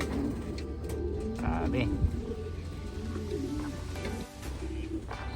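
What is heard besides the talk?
pigeons cooing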